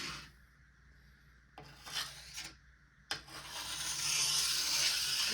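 Steel file rasping along a ski's edge to sharpen it, a close scraping stroke, a pause, then a longer continuous grinding pass that grows louder toward the end, no voices.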